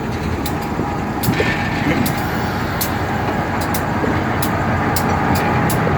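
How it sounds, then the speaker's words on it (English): A steady rushing hiss from an EMD SD38-2 diesel locomotive's spitter valve draining moisture, with a low engine rumble and periodic sharp clicks, under ongoing outdoor noise during coal hopper switching. "what you hear there, that's a spitter valve. That drains, supposed to drain moisture out of"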